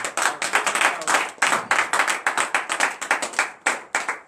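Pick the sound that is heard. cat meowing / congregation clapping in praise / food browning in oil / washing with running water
congregation clapping in praise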